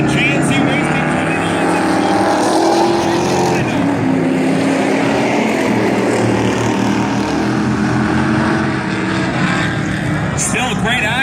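Modified-class race cars roar around the Valley Raceway oval in a feature race, a loud continuous engine howl that fills the whole stretch while a commentator talks over it.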